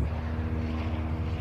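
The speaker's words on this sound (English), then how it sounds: "there are lots of different types of planes arriving" Planes arriving at an air show, heard as a steady low engine rumble at moderate distance, continuous and unbroken, with no voices over it.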